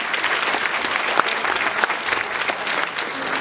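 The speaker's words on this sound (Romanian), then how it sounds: "Să-l aplaudăm pe Andrei!" Steady audience applause, dense and sustained throughout, with many hands clapping at once and no voices standing out.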